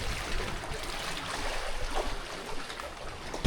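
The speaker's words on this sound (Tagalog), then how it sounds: "Lakas ng alon sa baba guys." Strong sea waves wash against the shore below a snake island, a continuous loud broadband rush of churning surf that swells and recedes throughout, with a brief louder burst at the very end.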